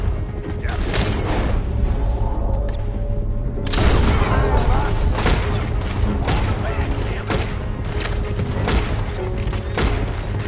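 Gunfire breaks out during a stagecoach robbery in Red Dead Redemption 2, with repeated sharp shots and thuds scattered through a loud, busy scene. Voices talk over the shooting and mechanical clatter.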